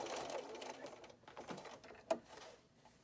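A home sewing machine stitches across a fabric dart on a quilted bowl cozy, then back tacks: short bursts of light mechanical whirring with a sharp click near the end, fairly faint and close.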